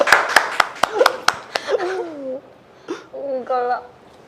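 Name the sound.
clapping hands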